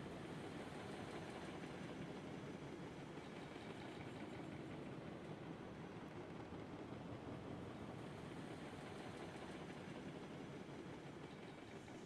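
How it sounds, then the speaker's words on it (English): A train runs in the video game Railroads Online, heard as a steady, dense rumble and hiss that carries on evenly throughout with no talking. "Updated train noises."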